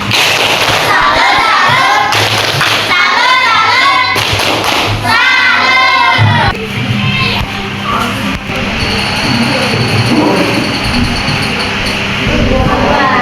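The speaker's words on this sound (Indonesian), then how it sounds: "Oke, tepuk salut dulu dong." A primary school class performs a rhythmic group clapping routine, with loud, patterned claps and thumps mixed with children's chanting voices, followed by someone talking over quieter background noise.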